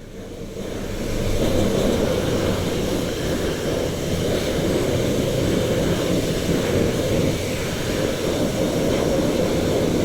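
Water spraying steadily onto a motorcycle that has sat in a shed, a continuous rushing hiss of hose rinse close by and fairly loud for the whole stretch, with no talking.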